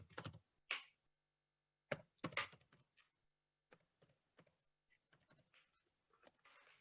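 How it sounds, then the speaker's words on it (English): Quiet bursts of computer-keyboard typing during a live online revision class, with short clusters of key clicks separated by pauses and one louder burst in the middle. "you can see by me typing it in"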